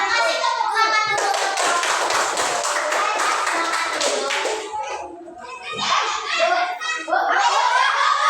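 A group of schoolchildren in a classroom claps enthusiastically, with cheerful young voices chattering and calling out over the applause throughout.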